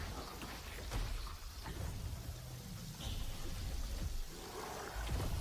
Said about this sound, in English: why'd she make it rain?